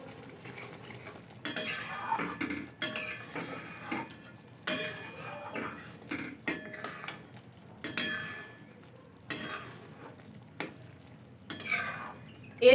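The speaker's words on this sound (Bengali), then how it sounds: "এগুলো দিয়ে খুব ভালোভাবে আমি নেড়ে মশলাটা কষিয়ে নিচ্ছি" Coriander powder masala is stirred and fried in a pan for a cauliflower roast: a spoon scrapes and clatters against the metal in repeated, irregular bursts, close and fairly quiet, with short pauses between strokes and no speech.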